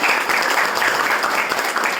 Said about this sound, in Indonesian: Boleh tepuk tangannya adik-adik?